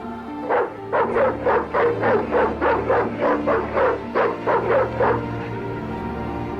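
In the Broken Sword 2: The Smoking Mirror remastered adventure game, a dog barks frantically, a rapid loud run of about fifteen close barks over a low background hum, with no talking.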